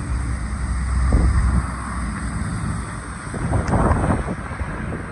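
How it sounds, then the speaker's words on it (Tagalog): Strong wind from super typhoon Uwan buffets Dolomite Beach, a loud, rough roar that surges and eases in gusts, with heavy wind rumble hitting the microphone and possible surf beneath. "Malakas ang hangin."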